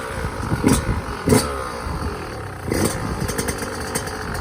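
A 2021 Yamaha YZ 125 two-stroke motorcycle engine runs up close after starting, with a steady loud buzzing idle broken by short sharp throttle blips.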